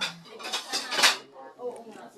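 Plates and spoons clatter while food is served at a village gathering, a cluster of close ceramic and metal clinks and scrapes, with people talking alongside.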